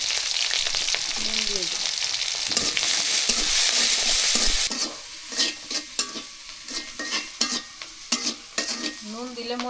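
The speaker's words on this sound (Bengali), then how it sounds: "শাক ভাজি করবো তো তেল দিয়ে দিচ্ছি, কাঁচামরিচ আর রসুন দিয়ে" Green chilli and garlic sizzling loudly in hot oil for a greens dish, a dense continuous fry at first, then stirring scrapes and taps over a quieter sizzle while a person speaks briefly.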